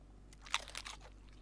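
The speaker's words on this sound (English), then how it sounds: "You hear me just crunching and munching on that chicken spine?" A short, crisp crunch from biting into a chicken spine in the video game Midnight Snack, a few quick crackling bites over about half a second, close and fairly quiet.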